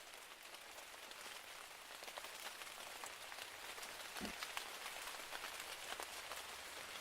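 Steady rain falls on a ranch in the post-drought era, a dense even patter of drops that continues without a break and without any voices.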